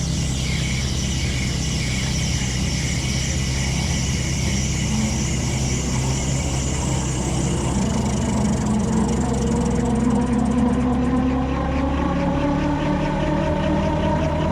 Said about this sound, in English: I'm only using normal pre-rotate up to 200 RPM in order to reduce wear on the pre-rotate system